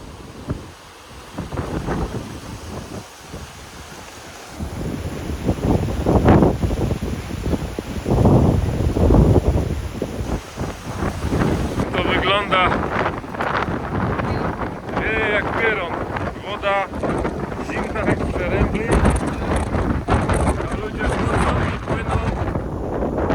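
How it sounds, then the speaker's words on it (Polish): Strong wind buffets the microphone in heavy gusts on a coastal walk down to a beach in Crete, roaring and rumbling, with people talking intermittently underneath. "jeszcze kawałek drogi przed nami straszny wiatr"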